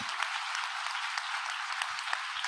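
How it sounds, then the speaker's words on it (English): Audience applause at a university president's welcome week address, a steady, dense clapping from a large crowd that fills the whole short stretch with no talk over it. "Would you join me in giving them a round of applause for what they've done?"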